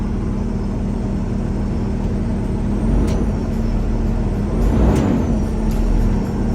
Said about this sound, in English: See how loud these Jake brakes are.